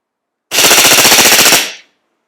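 Cybergun Desert Eagle .50AE airsoft pistol firing a rapid burst of about a dozen close, loud shots until the magazine empties, then a short tail of echo.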